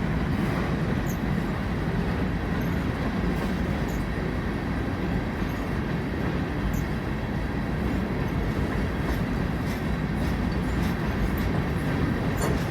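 FEC engine 507 hauls a long freight train of rock and sand cars, with a continuous heavy rumble and faint rhythmic wheel clatter rolling past steadily and fairly close.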